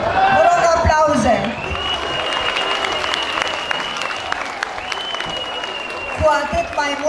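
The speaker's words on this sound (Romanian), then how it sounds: "Vă rog aplauze!" An audience at a Romanian folk festival applauds the ethnofolk ensemble Moștenitorii, with dense sustained clapping under background voices and tones.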